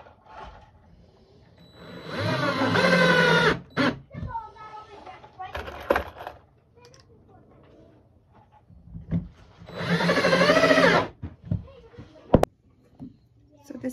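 A power drill drives 2-inch pocket screws into a barn wood bench in two loud, close bursts of whirring, each a second or two long. Quieter knocks and handling noises fill the gaps between them.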